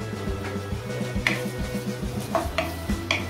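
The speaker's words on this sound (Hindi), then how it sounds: "इसे जो है कलर चेंज होने तक फ्राई करना है चिकन को।" Chicken fried in a pan over a high flame, with a low sizzle under repeated clinks and scrapes of a spatula against the pan as it is stirred.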